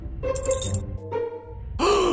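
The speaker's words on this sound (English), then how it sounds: "Le gasp." A voice in a horror video game gives short, breathy gasps, a sharp intake early on, a softer one midway, and a stronger breathy burst at the end.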